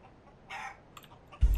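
A chicken in the video game Counter-Strike: Global Offensive gives a short burst of clucking, followed near the end by a sudden low thump.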